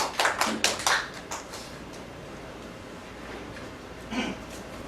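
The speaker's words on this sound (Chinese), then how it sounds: "掌声鼓励一下第3组。" Brief burst of applause from a classroom audience of business-training participants for group 3, a second or so of clustered claps that quickly fades to quiet room tone, with one faint clap afterward.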